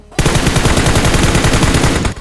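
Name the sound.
gunfire from teammate in BGMI PUBG Mobile video game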